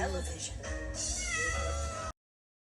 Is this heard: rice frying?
no